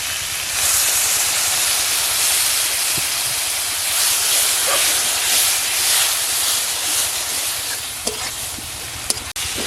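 Water hits a hot pan of spices, turmeric and tomato while a spicy village dish of lote fish and eggplant is cooked. A loud steady sizzle and hiss of steam fills the whole stretch, with faint stirring clinks near the end.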